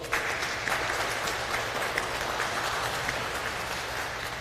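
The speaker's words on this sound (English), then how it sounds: "Give yourselves a round of applause" Intermediate school students at a Veterans Day program give themselves a round of applause, a steady wash of many hands clapping from start to finish.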